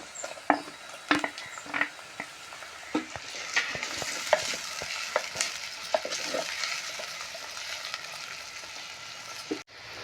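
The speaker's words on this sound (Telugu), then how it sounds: "ఇప్పుడు టమాటా వేద్దామండి" Tomatoes added to salted, softened onions in a frying pan sizzle steadily while a spoon scrapes and knocks against the pan in irregular bursts, close and fairly loud, with no talking.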